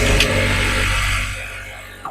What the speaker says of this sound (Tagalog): So papandarin ko po ano, So, tingnan nyo po kung magpapump ko siya o aangat po yung langis.